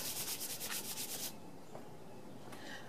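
Gloved hands rubbed together with Dawn dish soap at a portable sink, a loud rapid rhythmic scrubbing that stops abruptly, followed by a quieter background hiss.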